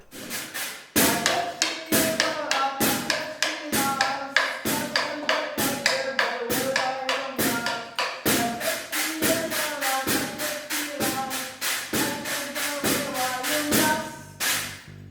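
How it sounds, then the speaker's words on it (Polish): Kashubian devil's fiddle (diabelskie skrzypce), a folk percussion instrument, struck in a steady, rapid rhythm of sharp taps and thumps with a jangling metallic ring, loud and close, continuing for the whole stretch without speech. "tu mamy diabelskie skrzypce. To jest instrument perkusyjny"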